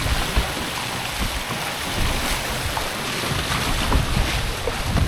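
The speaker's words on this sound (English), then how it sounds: "The waves are getting bigger." Waves slap and wash steadily against a Hobie Cat 16 catamaran sailing on the open sea, with constant wind buffeting the microphone and broad, rushing water noise throughout.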